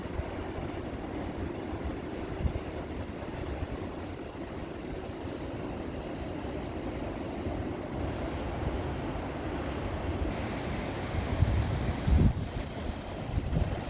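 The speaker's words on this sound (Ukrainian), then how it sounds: "Гуде море." Black Sea waves surge onto the beach at Chornomorsk in October. A continuous low roar of surf comes from a distance, mixed with gusty wind buffeting the microphone.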